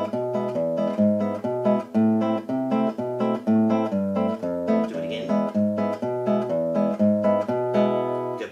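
A classical guitar plays the opening of Tárrega's Malagueña, with a steady rhythmic pattern of plucked bass notes and repeated treble figures, close and clear, with no voices.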